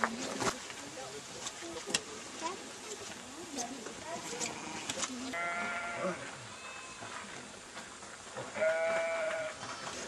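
Lambs bleat in the countryside at Hobbiton in Matamata, New Zealand, with no traffic around. Several wavering bleats come from middle distance over a steady rural hum, with a louder bleat near the end.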